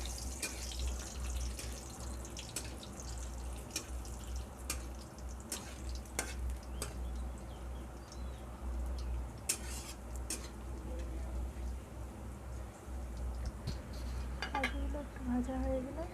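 Cashews fry in oil in a pan while being stirred, with steady sizzling beneath scattered metallic clinks of a spoon against the pan; a voice speaks over it at times.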